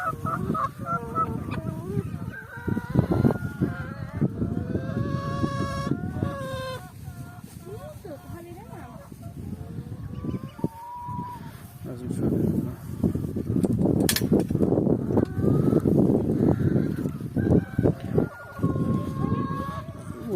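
Farm poultry on a muddy day, with goose-like honking and clucking from chickens let out of their coop, fairly close and continuous, mixed with rustling and a few spoken words.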